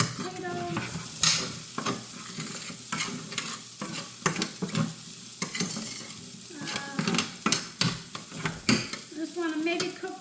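Potatoes fry in a pan beside bacon, a continuous close sizzle with repeated scraping stirs and sharp utensil knocks at irregular intervals, without any talking.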